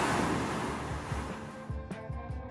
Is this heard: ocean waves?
yes